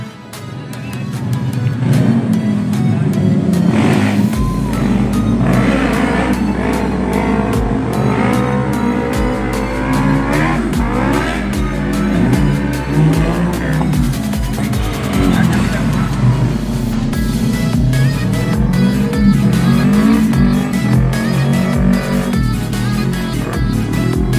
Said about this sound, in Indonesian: langsung saja kita saksikan penampilan dari slalom mobil dan freestyle motor